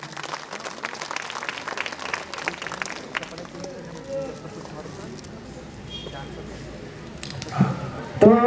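An audience at an annual program and Christmas gathering applauds, a dense patter of clapping that thins out over several seconds, with voices and other noise rising near the end.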